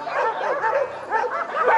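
A Yakutian Laika barks in a run of short, yipping bow-wows with whiny edges, close and fairly loud, in rhythmic bursts.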